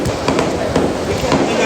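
Fireworks set off outdoors during a New Year's Eve celebration: a dense, continuous crackle of bursts and pops over steady background noise, with several louder cracks standing out.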